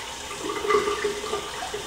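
Tap water running steadily into a sink while shaving cream is rinsed off a face, a close continuous splashing hiss with faint gurgling changes.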